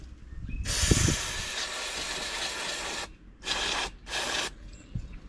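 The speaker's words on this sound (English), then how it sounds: "So that's it sprayed, and another wipe" Aerosol cleaner sprayed onto a Zama carburettor from a Stihl MS200T chainsaw: one long hissing burst followed by two shorter bursts, close and fairly loud, with faint knocks and no talk.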